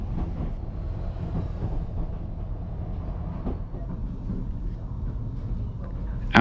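A Ffestiniog narrow-gauge train running across the embankment into Porthmadog Harbour, heard from on board as a steady low rumble with rhythmic wheel clicks and rattling carriages throughout, and a sharp knock right at the end.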